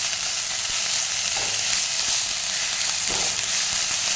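Onions frying in a small amount of oil in a pan, a steady close bright sizzle with a couple of faint stirring clinks, no voices.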